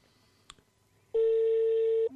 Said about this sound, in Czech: Určitě slyšíte, že vyzvání.